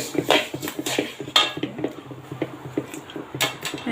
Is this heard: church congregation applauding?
no